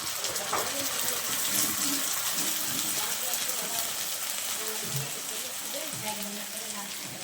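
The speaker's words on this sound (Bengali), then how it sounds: "বাটিটা ধুয়ে একটু পানি দিয়ে দিচ্ছি।" Water splashes and runs as a bowl is rinsed and poured out in a home kitchen while an egg curry is being cooked, a steady wash of broadband noise for the whole stretch.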